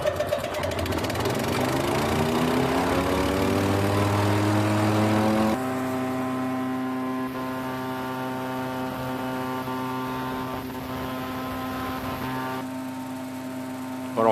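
Wood chipper engine running steadily while shredding branches for ramial chipped wood, a loud, constant mechanical drone that rises in pitch as it spins up, then holds with a sharp shift in tone midway.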